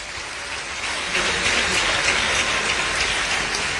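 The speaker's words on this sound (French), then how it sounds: "Je voudrais également qu'on puisse applaudir nos ministres, nos vaillants ministres et vice-ministres qui sont ici dans la salle." An audience in a formal hall applauds government ministers and vice-ministers with steady, dense clapping that swells slightly and holds without pause, with no voices over it.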